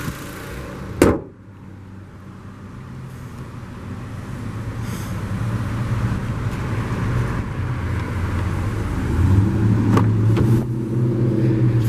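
A 2018 Honda Civic LX sedan with a CVT drives along, its engine a steady low hum with road noise that builds gradually, after a sharp thump near the start.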